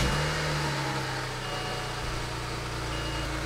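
A BMW E90 engine idling with its engine cover fitted after a fuel injector upgrade, a steady low hum with tonal drone that stays even and fairly quiet throughout.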